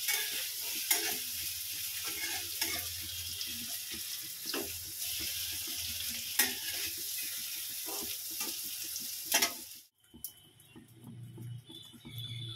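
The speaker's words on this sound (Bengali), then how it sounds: "এবার আলুগুলো দিয়ে দেবো, আলুগুলো একটু লাল করে ভেজে নেব।" Potatoes and paneer frying in a pan, a continuous close sizzle with occasional spatula scrapes, then a brief drop and a quieter hiss near the end, with no voices.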